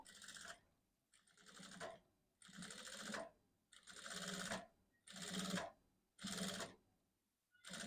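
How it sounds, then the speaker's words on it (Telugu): A sewing machine stitching stiff buckram canvas for blouse piping, running in six or seven short bursts with brief pauses between them, close and fairly quiet with no talking. "నీట్గా నిదానంగా అయినా సరే కుట్టు వేసుకోవచ్చు"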